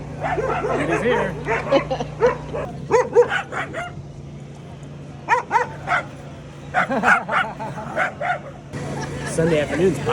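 Dogs at a busy Sunday-afternoon dog bar give repeated short barks and yips in irregular clusters, fairly close, over a low steady hum and chatter of people nearby.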